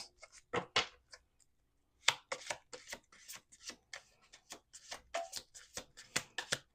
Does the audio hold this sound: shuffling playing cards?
yes